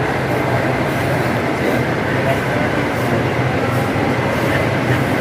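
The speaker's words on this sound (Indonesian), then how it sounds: "ada di stasiun MRT mau turun" MRT metro train in a Jakarta station, a steady loud rumble and hum of the carriage running continuously throughout, with station and passenger noise mixed in.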